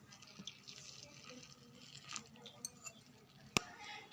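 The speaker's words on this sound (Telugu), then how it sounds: "ఇప్పుడు కాగబెట్టుకున్న నీళ్ళు పోస్తున్నానండి కలుపుకోవడానికి." Boiled hot water is poured into jaggery dough for bellam gavvalu, a quiet close trickle with faint clinks and one sharp tap near the end.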